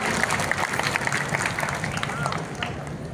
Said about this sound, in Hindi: जोरदार ताली हो जाए आप लोगों के लिए